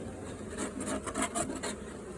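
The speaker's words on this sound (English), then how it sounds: "I'm going to scrape some of this wax off the top" A hive tool scraping wax off the top of a honeybee hive during an inspection: close, steady rasping strokes in short repeated bursts, with no talking.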